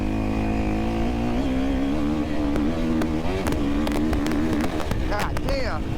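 A 2023 KTM 350 SXF dirt bike with a Vortex ECU revs and pulls hard while being ridden, a loud, steady engine drone rising and falling in pitch with wind buffeting the microphone.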